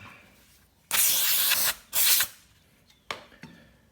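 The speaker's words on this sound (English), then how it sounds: "we get carb cleaner, give it a bit of a clean out like that" Two long, loud hissing bursts of carb cleaner spray on a 50cc motocross bike, followed by a couple of short faint puffs, close up with no talking.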